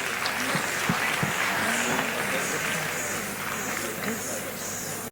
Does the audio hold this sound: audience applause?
yes